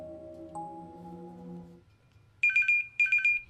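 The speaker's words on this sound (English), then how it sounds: "あ、電話" In the visual novel game Chaos;Child, a mobile phone ringtone starts after a fading musical tone, sounding as two bright, close electronic trilling bursts.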